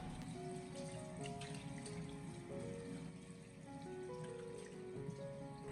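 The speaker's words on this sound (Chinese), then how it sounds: "用流动的清水把鸭腿表面的食盐还有香料冲洗下来" Running tap water rinsing salt and spices off salted duck legs in a sink, a steady, close splashing stream with faint tonal ringing, continuous and unbroken.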